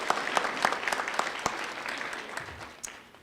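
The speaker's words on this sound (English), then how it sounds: "I would like to give you all a round of applause" Applause from an audience at a fair and affordable housing summit, steady clapping from many hands filling the room for the whole stretch, fairly close and moderately loud.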